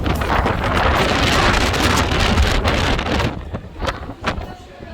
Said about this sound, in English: I don't know if you guys can hear that wind